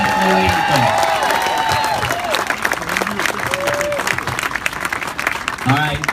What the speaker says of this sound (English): One more big round of applause for Sergeant Hudson for our national